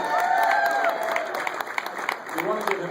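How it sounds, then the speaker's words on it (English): A small audience claps for Richard at a Jaguar dealership car reveal in Sacramento, a short burst of scattered applause that tapers off over the last moments. "Round of applause for Richard."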